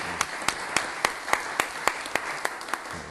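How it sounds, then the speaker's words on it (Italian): An audience applauds at a commemorative gathering, with about a dozen evenly spaced, rhythmic claps standing out over a steady wash of crowd noise. The claps keep a regular beat all the way through. "Facciamogli un applauso"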